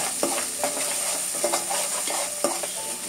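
Ginger garlic paste frying in oil with onion and turmeric for a veg liver curry, a steady close sizzle broken by several sharp scrapes and clacks of a spoon stirring against the pan, with no talking.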